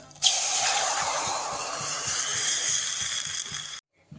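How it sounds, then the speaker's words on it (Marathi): Water hits a hot pan of mustard seed, cumin and asafoetida tempering with a sudden loud hiss that keeps sizzling for several seconds, then cuts off abruptly. "आणि आता टाकू आपण पाणी"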